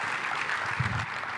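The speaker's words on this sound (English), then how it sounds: "Let's give him a big round of applause." A short burst of audience applause at a manufacturing talk, a thick continuous patter of many hands, fairly close and steady, with a low murmur beneath it.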